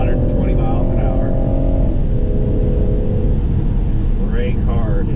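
A BMW 440i at full throttle on the Nurburgring GP track gives a loud, steady engine drone that holds its pitch, while someone talks over it.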